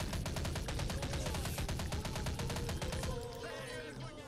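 Sustained rapid automatic fire from an M60 machine gun in the video game Grezzo 2: a fast, even stream of loud shots that eases off in the last second into ringing echoes.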